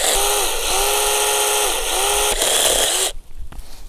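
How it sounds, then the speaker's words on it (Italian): A small battery chainsaw whines loudly and steadily as it cuts a branch during pruning, pitch dipping briefly under load, then cuts off into quiet near the end. "Un altro prodotto è questa motosega piccolina utile per fare piccoli tagli"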